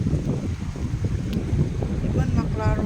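Steady wind at a campsite on the Thompson River, British Columbia, buffets the microphone with a low, rumbling rush, and faint voices come through briefly near the end.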